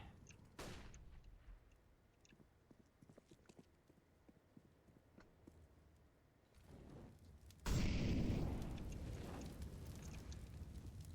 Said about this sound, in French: Grenade out. Je vois essayer. Molotov out. Throwing flashbang.